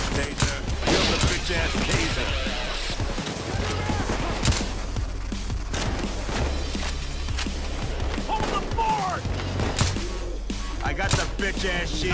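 Gunfire in a cops-themed video game is aimed at a gas can. Scattered single shots crack over a steady low rumble, with a voice talking throughout.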